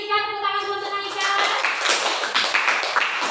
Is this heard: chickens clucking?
no